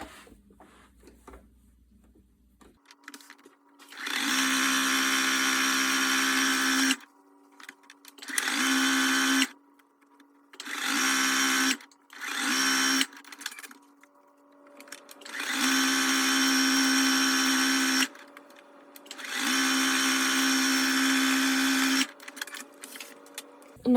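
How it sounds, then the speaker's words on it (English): A sewing machine runs in several bursts, stitching a quarter-inch seam with gray thread on both sides of a fabric casserole carrier. The steady mechanical hum is loud and close, separated by short pauses. "I'm just gonna sew on at that 1/4 inch seam allowance on both sides."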